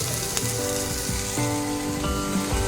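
Chopped ginger, green chilli and garlic sizzle in hot oil in a pan while cooking crab fry, a loud continuous crackling fry with a few stirring clinks and scrapes over it.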